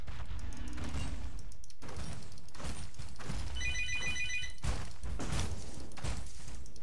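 A telephone rings in a couple of short, bright bursts over a busy background of thumps and whooshes during a Path of Exile play session.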